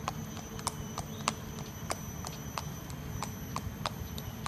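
A racehorse by Darci Brahma walks at a steady pace in Singapore, its hooves clip-clopping in an even rhythm of sharp, moderately close strikes over a low background rumble.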